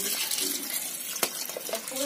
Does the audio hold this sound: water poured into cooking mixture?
yes